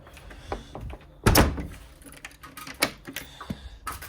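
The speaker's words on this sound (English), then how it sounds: "Hold on, just go close this door." Door being closed in a workshop during a shopping trolley go-kart build: one loud thud, then quieter knocks and shuffling.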